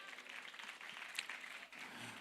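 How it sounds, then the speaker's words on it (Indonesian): An audience at an Islamic boarding school leadership transition ceremony applauds, a dense, steady wash of many hands clapping at a moderate distance, lasting the full stretch with no one talking. "Beri tepuk tangan yang meriah kepada beliau."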